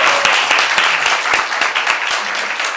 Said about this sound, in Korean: 박수 한번 쳐주시죠.